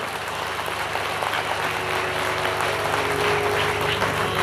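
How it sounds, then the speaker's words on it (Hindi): Loud, dense clapping from a crowd at a religious gathering in a village setting, sustained and even throughout with a faint steady hum beneath it. "जोर से ताली बजाओ"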